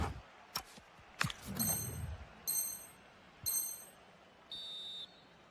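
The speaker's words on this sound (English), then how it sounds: "And the whistle is sounded for..." A referee whistle sounds in the eFootball video game with four short, shrill blasts, evenly spaced after some brief knocks, over a quiet backdrop.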